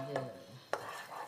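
Spoon stirring a mixture in a pot at home, a couple of soft scraping strokes with a brief clink, close and quiet.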